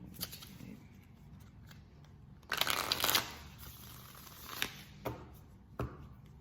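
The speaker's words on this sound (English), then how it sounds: "I'm gonna shuffle them." A deck of tarot cards is shuffled up close, with a quick riffle burst followed by a few soft taps and flicks in an otherwise quiet room.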